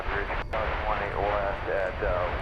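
A Turkish Boeing 787-9 Dreamliner jet climbs away after takeoff at night at DFW Airport, its engine roar a steady rumble at moderate distance, with a brief sharp click early on.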